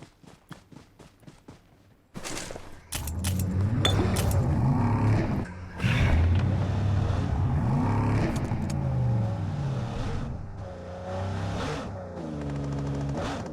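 A car engine revving and accelerating as the car smokes its tyres, loud and close, with rising and falling engine tones and sharp bursts at the start.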